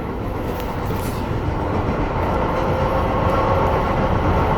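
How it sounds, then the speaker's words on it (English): MBTA Green Line train riding past another train going the other way, a dense steady rumble and rattle heard from on board, loud and continuous with a brief whooshing swell as the other train passes. "So finally we crossed another train going the other way"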